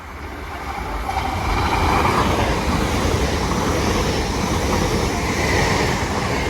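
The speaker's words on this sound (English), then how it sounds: "Next train to zoom past is a Class 800 going to Liverpool Lime Street" A Class 800 train bound for Liverpool Lime Street rushes past a station platform at speed, a loud, steady roar with rail rumble swelling after the first second and holding throughout, with no talking.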